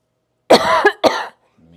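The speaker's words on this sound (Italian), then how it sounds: "Scusate, ho ancora un po' di tosse" Two close, harsh coughs in quick succession, the first longer and rougher, followed by brief quiet.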